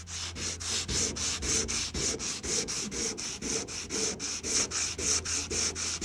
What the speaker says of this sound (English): am going to try to reveal the original blue color here using wet sandpaper